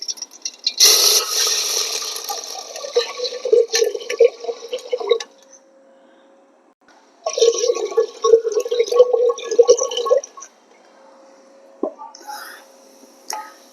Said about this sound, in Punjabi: ਹੁਣ ਆਪਾਂ ਪਾਣੀ ਪਾਵਾਂਗੇ